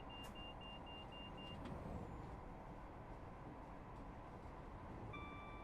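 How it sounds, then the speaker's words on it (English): A Valenta diesel engine in Train Simulator 2019 drones steadily from inside the cab, a dense, continuous low rumble with faint high whines and tones, heard alone without any talk. "Love the sound of that Valenta engine."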